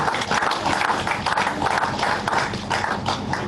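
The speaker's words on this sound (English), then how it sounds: "Shall we give a round of applause to the Lord Jesus?" A church congregation claps together through a Sunday service marking the church's first anniversary, a steady, dense wash of many hands filling the room without pause.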